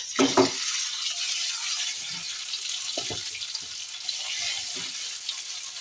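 Ginger paste hitting hot oil in a pan while cooking bitter gourd, a soft steady sizzle with a few short knocks and clatters of the spoon or pot, no talking.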